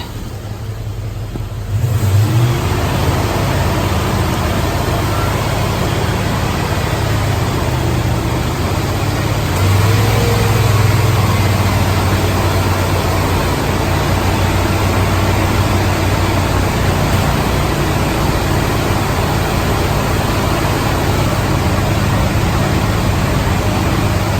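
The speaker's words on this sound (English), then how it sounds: "I'm going to give it some gas again" A car engine runs during an at-home transmission flush, starting up then holding a loud, steady rumbling rev close by with slight surges in pitch, no voices.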